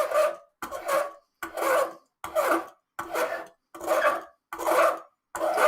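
Rhythmic rasping strokes of sandpaper rubbing on a wooden part of a vintage classical guitar, about eight even back-and-forth passes separated by short pauses, close and clear.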